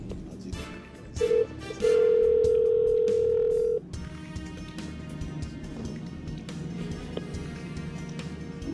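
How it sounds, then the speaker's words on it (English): A telephone call on a boat is marked by a short tone blip, then a loud steady tone lasting about two seconds over engine-like rumble and background noise. "we got to phone a friend here on this one"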